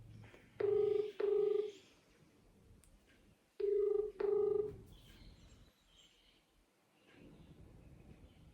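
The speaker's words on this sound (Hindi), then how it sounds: "रिंग जा रही है।" A phone ringback tone plays while a call to a friend connects: two double bursts of ringing, each pair about a second long, separated by a pause, over faint room noise.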